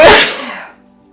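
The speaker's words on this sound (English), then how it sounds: "I have to sneeze." A single loud, close sneeze bursts out sharply and then trails off quickly into near silence.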